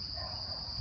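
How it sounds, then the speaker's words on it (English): Crickets chirp in a South African wetland, a steady, shrill high-pitched trill that runs unbroken for the whole short moment at a moderate, close level. "just listen to that sound of, I don't even know what, those crickets, some birds"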